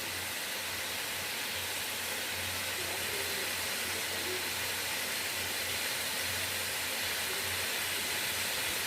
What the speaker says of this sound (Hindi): पाँच मिनट इसको हमने अच्छे से फ्राई कर लेना है,